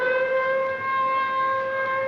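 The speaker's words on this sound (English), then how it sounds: "There goes the alert siren." A steady Cold War civil defense alert siren wails on a sustained tone with bright harmonics, loud and continuous, no voices.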